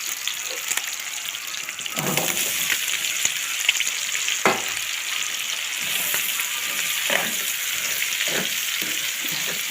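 Onions added to liver frying in a pan, giving a loud, steady close sizzle with occasional stirring scrapes and clinks, and no talking.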